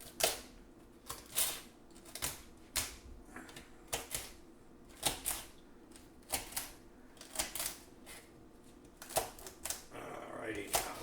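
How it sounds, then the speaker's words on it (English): A knife dices food finely on a cutting board for corned beef and cabbage, sharp irregular chopping thuds in short bursts, close and clear, with brief gaps between strokes. "I'm going to dice it up pretty small."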